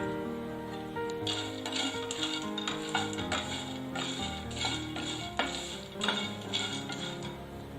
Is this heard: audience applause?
no